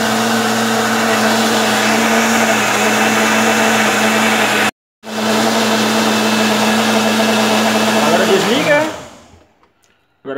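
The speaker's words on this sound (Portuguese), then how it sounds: "vamos tampar o liquidificador." A kitchen blender whirs loudly while mixing homemade Danoninho, a steady motor drone cut by one brief pause, then running again before winding down to silence.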